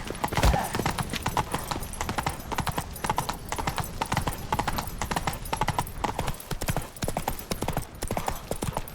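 Horse hooves pound rapidly and continuously in The Witcher 3 as a mount gallops, a dense, close clatter of clip-clops with an occasional whinny, steady throughout.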